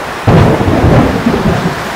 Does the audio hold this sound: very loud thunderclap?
yes